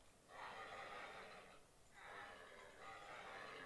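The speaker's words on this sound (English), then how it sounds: "young horse." A horse in Minecraft neighs twice, two breathy whinnies separated by a short pause, alone and fairly quiet.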